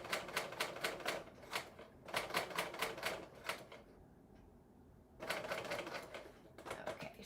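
A serger sewing machine stitches along a zipper edge in quick, rhythmic bursts of rapid clattering, pausing briefly in the middle before running again, close and fairly quiet with no talking.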